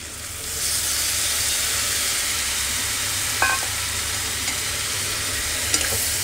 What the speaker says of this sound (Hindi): अब इसमें थोड़ा पानी डाल देते हैं